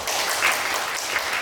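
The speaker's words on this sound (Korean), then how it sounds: "큰 박수로 맞이해주시면 감사하겠습니다" An audience at a Korean lecture event applauds to welcome the speaker, a dense, even wash of clapping from many hands in a hall, brief and steady.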